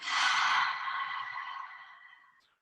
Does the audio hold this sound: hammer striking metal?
no